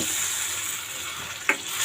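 A spoon scrapes and stirs through sizzling dried fish and brinjal curry gravy in a pan, steady frying hiss with one sharper clink of utensil against metal near the end.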